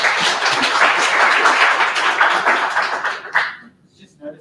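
An audience at a Sydney data engineering meetup gives a sustained round of clapping after a talk. The applause holds steady, then thins out and stops, and a few voices are heard near the end.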